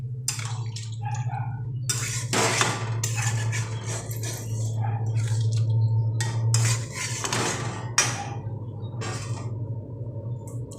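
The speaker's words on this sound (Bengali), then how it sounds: "এবার জলটা দিয়েও আমি ভালো মতো মিশিয়ে দিচ্ছি।" A utensil scrapes and clinks against a pan while pointed gourd curry with added water is stirred, in bursts of knocking and sloshing over a steady low hum, with no talk.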